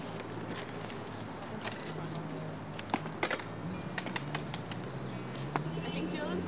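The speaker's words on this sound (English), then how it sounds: "That was a lot of birds" Wings of a flock of birds at a park flutter and flap in bursts over a rustling, windy background, with a few sharper close flaps and faint voices in the distance.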